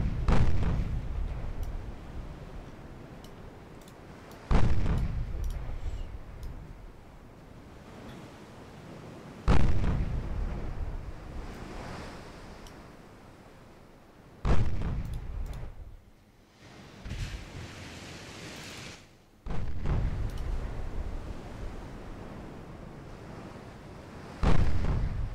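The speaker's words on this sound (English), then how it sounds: "Guns firing." Naval guns on pre-Dreadnought style cruisers firing in a naval warfare video game, heavy booming salvos roughly every five seconds, each with a loud attack and a long rumbling decay.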